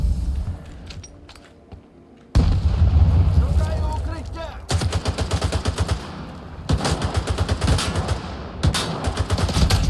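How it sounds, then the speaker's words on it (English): Grenade blast and gunfire in the shooter Stalker 2: Heart of Chornobyl, a loud explosion followed by bursts of rapid automatic fire with repeated sharp cracks, close and heavy. "Oh, there's a grenade."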